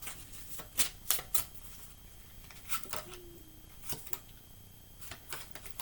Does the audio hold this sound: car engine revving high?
no